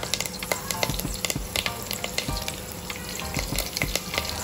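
Curry leaves and cumin seeds crackling in hot oil in a pan, steady sizzling hiss with frequent sharp pops and spits, close and moderately quiet, with no talking.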